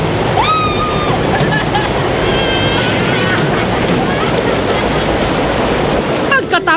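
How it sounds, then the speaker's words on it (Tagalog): Rushing river current churns around kayaks in a loud, steady broadband wash, with brief high calls or whistles rising above the water noise. "Ang magbabarkadang Crizel, Bambol at Paul, sinagupan nila ang agos ng ilog gamit ang mga kayak."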